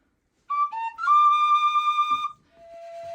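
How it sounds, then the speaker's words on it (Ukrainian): A wooden Hutsul sopilka, a folk whistle flute, plays a short run of clear, steady whistled tones, close and fairly loud, with a brief pause before a softer held note at the end. "А коли ми зробили свистульку, корок, і в нас сопілочка."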